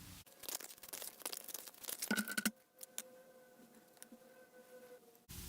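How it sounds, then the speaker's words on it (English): Tarot cards are shuffled close by, a quick rustling riffle of cards at the start followed by a few soft taps and a quieter hum, with no talking. "I'm going to shuffle a couple more cards for you guys"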